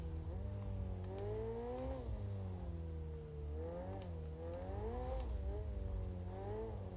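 Mid-engine stock car drifting in the racing game Project Cars 2, a loud, steady engine drone with pitch rising and falling as the throttle is worked, running continuously through the clip with no talk.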